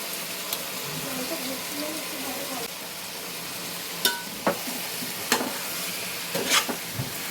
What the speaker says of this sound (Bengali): আদা রসুন বাটাটা এর সঙ্গে একটু মিশিয়ে দিচ্ছি